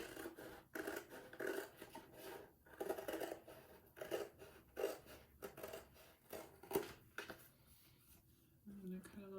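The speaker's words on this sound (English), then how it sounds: "I'm going to cut along this line here." Scissors snip through foil along a line in a rapid series of short, crisp cuts with rustling, fairly close but quiet, while a person talks.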